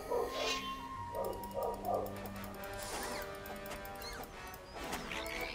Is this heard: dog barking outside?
yes